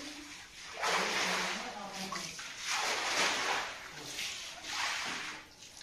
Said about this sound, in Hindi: ये देखो हमारे घर में पानी कितना निकाल रहे, उतने ही ज्यादा पानी पानी होता रहा।